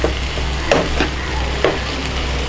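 Onions sautéing with salt in a pan for beef biriyani, a steady low sizzle with a few sharp scraping stirs of a spoon against the pan, close and alone.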